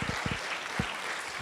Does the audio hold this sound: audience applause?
yes